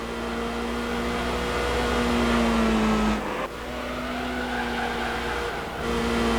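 A racing car in the game Gran Turismo 3 held at full throttle, its engine a steady, loud high-pitched drone with a brief dip partway through before climbing back, no voices over it.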